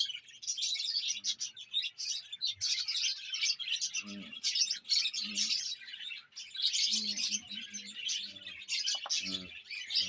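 Birds chirp and tweet continuously in quick, high bursts, with occasional low cooing underneath; no one speaks.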